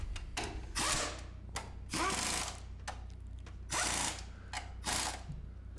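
Ratchet wrench running the strut nuts back on while installing a Honda front strut from underneath the car, quiet bursts of rapid clicking separated by short pauses.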